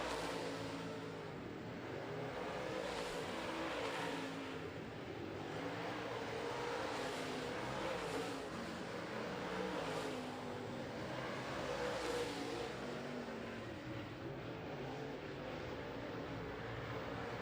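Late model stock cars race around an oval track, their engines a continuous distant roar that swells rhythmically as cars pass every couple of seconds, under a faint crowd and arena ambience.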